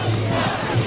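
A crowd of protesters demonstrating against the Gulf War in San Francisco in 1991 makes a dense, steady roar of shouting voices that fills the brief moment.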